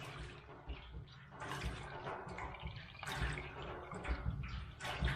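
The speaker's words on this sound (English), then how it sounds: "All right, we have running water." Water from a hand pump gushes and splashes into an off-grid kitchen sink in uneven surges, fairly quiet and close, with no talking.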